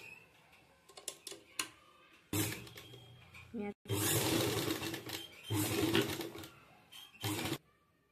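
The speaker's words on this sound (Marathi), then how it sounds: "याच्यावरती शिलाई मारायची" A sewing machine stitches a V-shaped fabric strip for a short sleeve design in close bursts of steady whirring, broken by brief pauses, with faint handling clicks and a voice speaking at times.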